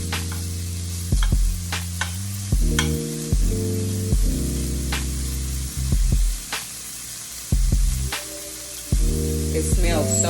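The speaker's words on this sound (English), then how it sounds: "let's continue to let this cook down some more" Cabbage with andouille sausage fries in a pan for Cajun fried cabbage, a steady low sizzle broken by repeated bursts of louder stirring and clatter, close up with no one talking.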